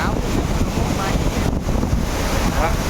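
Strong wind at the sea buffets the microphone in a constant roar, with a wash of surf-like noise underneath and faint voices in the background.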